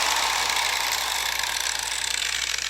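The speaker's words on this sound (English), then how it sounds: "now we're gonna kind of work through and grind our subframe here" A DeWalt angle grinder fitted with a 40 or 60 grit flap disc grinds a motorcycle subframe on a first-generation Yamaha Virago, giving a loud, close, continuous high abrasive whine with a slight wavering roughness and no talk.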